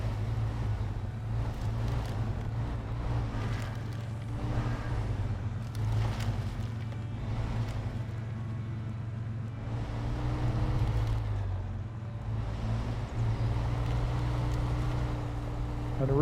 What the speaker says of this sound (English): I'm going to go down this hill in low gear.